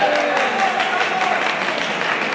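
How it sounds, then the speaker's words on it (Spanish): An audience applauds at the presentation of a Saint Seiya game and Blu-ray box, steady dense clapping that fills the whole moment. "un fuerte aplauso"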